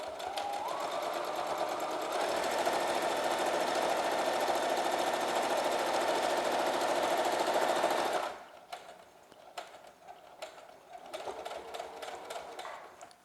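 A sewing machine stitches a fabric face mask with cloth ties, a close, rapid mechanical whir running continuously for about eight seconds before stopping, followed by quieter handling sounds.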